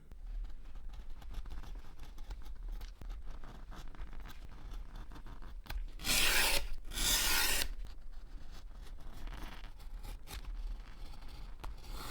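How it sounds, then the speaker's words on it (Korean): Two short bursts of sandpaper smoothing the cut curved edges of a leather bag piece, a raspy scratchy sound over quiet background hiss. "곡면 부분은 자른 다음에 사포로 다듬어 줍니다."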